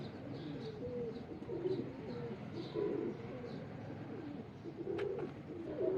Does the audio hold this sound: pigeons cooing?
yes